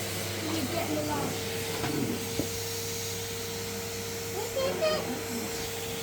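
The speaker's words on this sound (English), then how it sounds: "You hoovering the new rug?" A Henry hoover vacuum cleaner runs on a rug indoors, a steady droning hum with a constant whine that fills the whole stretch, while faint voices and someone speak over it.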